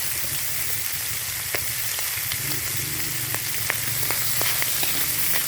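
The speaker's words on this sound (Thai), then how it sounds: "ผัดกันนะคะผัดให้หอม" A bamboo shoot and pork mixture stir-fries with a continuous crackling sizzle and scattered sharp ticks and spatters, heard close up. A low, steady hum sits underneath, and no one talks.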